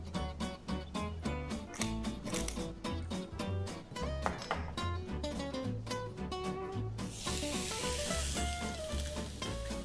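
A lamb burger patty fries in unsalted butter in a preheated pan, crackling and sizzling steadily up close, with a louder hiss building near the end.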